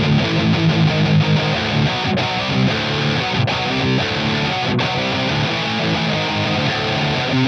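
Heavy metal electric guitar played through a distortion patch in Bias amp software, dense saturated chords ringing steadily and loudly with a few brief gaps between phrases, no voices.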